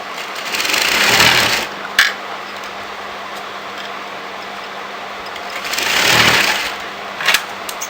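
A sewing machine stitches a shawl collar onto a kurti in two short bursts of rapid mechanical whirring, separated by a quieter pause with faint clicks as the fabric is repositioned.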